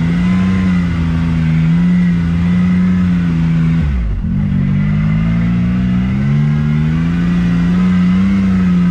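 A car drives on a slippery road in two-wheel drive, its engine a loud, steady droning hum close up, with one brief dip in pitch as it shifts before the drone settles again.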